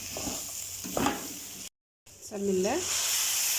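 Water poured over rice in a hot pot on the stove, a sharp burst of sizzling and hissing in a home kitchen, with a brief cut and a short spoken phrase.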